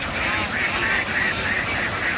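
Ducks freed onto a farm pond after ten days penned quack in a busy, overlapping chorus, loud and close, with a few calls standing out above the others.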